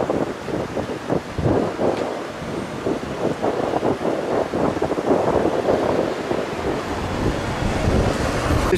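Strong wind buffets the microphone near the Eiffel Tower in Paris, a loud continuous roar with gusty low rumbles and no talking.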